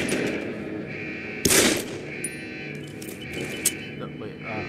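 A brief burst of gunfire in Deus Ex: Human Revolution, one loud crack followed by a couple of fainter shots, heard under talk.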